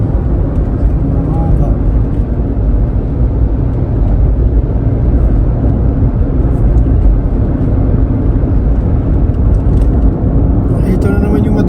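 Stop-and-go cars on the southbound road near Philippine Arena keep up a constant loud engine rumble close by, unbroken throughout, with a brief rattle near the end.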